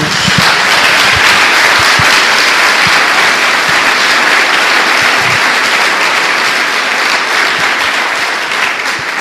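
A church congregation applauds for Jesus during a Portuguese-language sermon: steady, dense clapping from many hands that fills the room loud and unbroken, easing slightly near the end.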